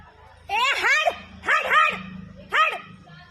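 A dog barks in three loud, close bursts with yelping, whining tones, one pair of barks then a single bark, while low household noise runs underneath.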